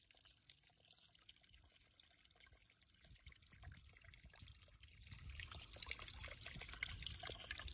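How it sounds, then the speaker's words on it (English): Water runs steadily while tie-dyed fabric is rinsed out at a camp in Maine, a soft trickling flow that grows louder and fuller toward the end, with no talking. "time to start rinsing out the tie-dye."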